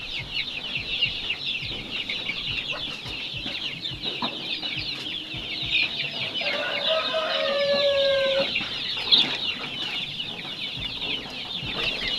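A coop full of chicks keeps up a dense, constant high peeping, with a rooster's crow rising clearly partway through and occasional clucks nearby.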